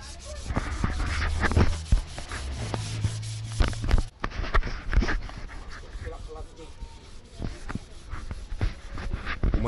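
A Chevrolet D-10 truck body gets hand-sanded before painting, producing close rhythmic scraping strokes with irregular bumps and knocks, and voices are briefly heard in the background.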